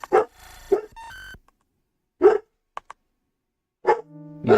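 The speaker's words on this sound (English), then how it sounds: "the dog I'm sitting right now, he's a bit barky" A dog named Loki barks in several loud, close bursts spaced across a few seconds, with short yips and quiet gaps between them.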